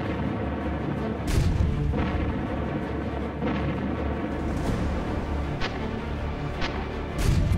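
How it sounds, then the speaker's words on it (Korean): An improvised mortar made from an oil drum fires with deep booming blasts, heavy rumbling thuds recurring every second or so over a dense, continuous low roar. "드럼통으로 대포를 쏘는 거예요?"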